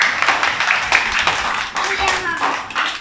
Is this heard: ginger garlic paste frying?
no